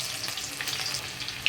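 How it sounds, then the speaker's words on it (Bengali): Garlic and green chilies frying in hot oil with whole spices for a mutton curry, giving a steady soft crackling sizzle for a brief moment, with a small sharp pop right at the end. "এখানে দেখো রসুন আর কাঁচা লঙ্কা ভাজা হয়ে গেছে"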